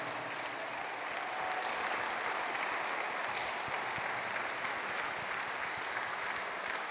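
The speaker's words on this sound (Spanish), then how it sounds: "Démosle un aplauso a los que cantan" A church congregation applauds the worship singers and musicians, a soft, even patter of clapping heard from a distance that holds steady throughout, with a faint voice briefly under it.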